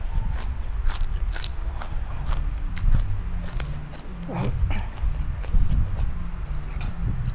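Crunchy biting and chewing of a heaped plate of Thai som tam papaya salad eaten with fresh raw vegetables and leucaena shoots, dense close-up crunches repeating steadily throughout.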